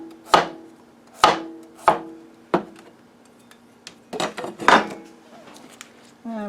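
A knife cuts a cucumber into very thin slices on a board, with several crisp, distinct chops spaced about a second apart, then a quicker cluster of cuts, close and clear.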